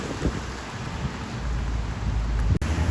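A rainstorm with thunder over a wholesale market in the early morning: a steady wash of heavy rain noise with deep low rumbling building underneath, continuous and fairly loud.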